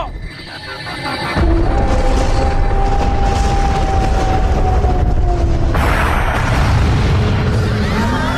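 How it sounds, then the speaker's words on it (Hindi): A loud cartoon cannon blast erupts into a sustained, heavy rumbling boom with whistling tones, a roaring explosion effect that fills the scene. "देखा हमारी तेज आवाज वाली तोप की ताकत को।"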